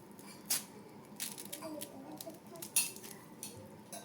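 A knife slicing through pineapple on a board, producing scattered crunchy cuts and light clinks, close and moderately quiet, with faint background noise.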